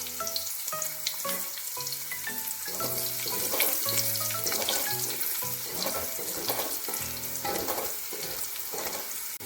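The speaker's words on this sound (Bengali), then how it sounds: "রসুন কুচিটাকে আগে লাল লাল করে ভেজে নেব।" Chopped garlic frying in oil at the start of a chicken chow mein recipe, a close, steady sizzle with occasional stirring scrapes over tonal background music and no talk.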